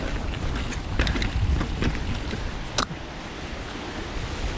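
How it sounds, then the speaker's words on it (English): Steady, blustery wind roaring across open rocky trails in Helsinki, Finland, a constant broadband rush with a few brief gusts and thumps, no voices. "today is super windy day."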